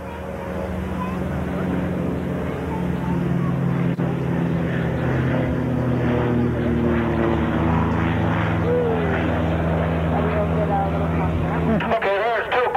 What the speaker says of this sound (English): look at him landing the float plane